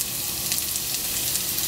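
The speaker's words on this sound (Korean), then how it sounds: "이렇게 좀 볶아주겠습니다" Minced green onion and garlic sizzling in sesame oil in a pan, a steady close frying hiss with faint stirring, no talk.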